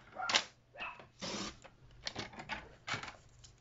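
A paper trimmer slices a thin sliver off a piece of card, giving a few short, close scraping and sliding swipes and clicks in quick succession, quiet overall and without talking.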